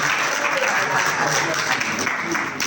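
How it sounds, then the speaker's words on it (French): Audience applause for an artist at a school poetry event, a loud, sustained clapping from a nearby crowd that fills the whole moment. "Souleymane Gueye, des applaudissements pour lui."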